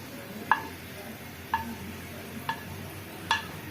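Garlic frying in oil in a pan, with a soft steady sizzle in the background and four sharp utensil taps against the pan spaced about a second apart, close and quiet.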